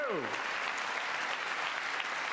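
Sustained applause in the chamber at the State of the Union address, steady and fairly loud, with a brief falling voice at the start before the clapping fills the rest.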